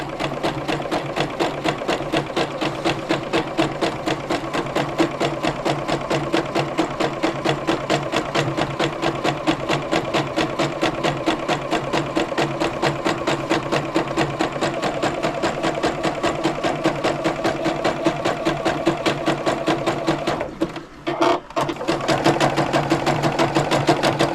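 A sewing machine stitches a fabric-wrapped rope bowl in a rapid, even mechanical rhythm close by, running continuously, pausing briefly near the end, then resuming.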